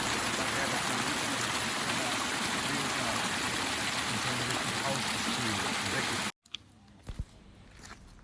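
Water flows down into a mountain lake in the Dolomites with a loud, steady rushing wash that fills the air, then cuts off abruptly, leaving a few faint knocks and light handling sounds.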